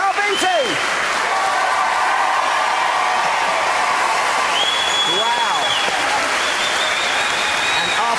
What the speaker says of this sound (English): After last night, I'm not surprised by that applause.